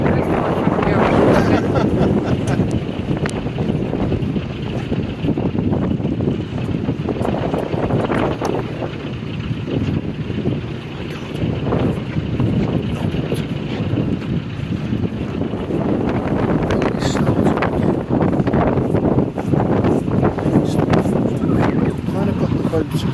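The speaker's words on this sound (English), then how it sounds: "Up here you really can feel the wind" Strong wind buffets the microphone aboard a narrowboat cruising between Llangollen and Chirk, a loud, gusting roar that rises and falls with a brief lull midway. Someone talks now and then over it.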